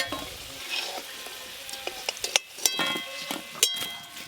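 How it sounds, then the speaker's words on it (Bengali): Potatoes sizzle in hot oil in a pan while being stirred for a chicken curry, with a soft frying hiss broken by scraping stirs and sharp clinks of the spatula against the pan. "আলুগুলো বেশ লাল লাল করে ভাজা হয়ে গেল।"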